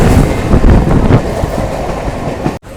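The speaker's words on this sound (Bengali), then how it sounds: "আমাদের ট্রেন এখন এসে পৌঁছলো জনাই রোড" Local train on the Barddhaman–Howrah chord line pulling into Janai Road station, a loud, close rumble with rhythmic wheel clatter that eases slightly before a brief cut near the end.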